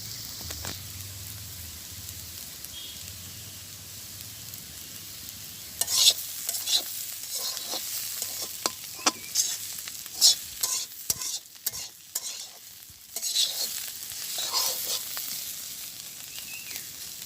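Vegetable bhaji stir-fries in a pan in a village kitchen, a steady sizzle broken by repeated scraping strokes and clatters of a spatula that grow busier midway, close and fairly loud.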